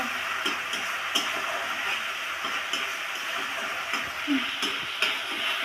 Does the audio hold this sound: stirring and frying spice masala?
yes